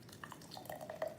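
A watermelon cocktail mixture poured into a glass over a coconut milk layer for a Miami Vice drink, a faint, brief glugging drip and liquid splash with no talking.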